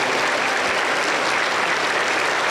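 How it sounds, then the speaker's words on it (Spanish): Continuous loud applause from a church congregation, dense steady clapping filling the whole stretch without pause. "Aplauso para el Señor."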